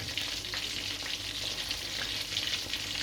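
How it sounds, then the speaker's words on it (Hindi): Chicken lollipops deep fry in hot oil, giving a dense, continuous bubbling sizzle that stays steady and close throughout. "लेकिन हमें 5 मिनट के लिए फ्राई करेंगे ताकि ये अंदर से अच्छे तरीके से"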